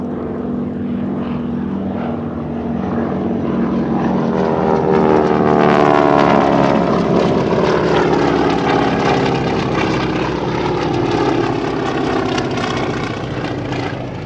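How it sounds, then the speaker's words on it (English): T-6 Texan propeller airplanes fly at the Dover AFB air show, with a loud, sustained engine drone that swells and shifts in pitch as they pass overhead. "this airplane was one of the many steps required to get you into a P-51"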